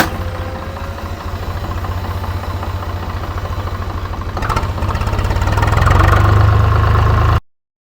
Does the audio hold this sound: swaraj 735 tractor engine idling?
yes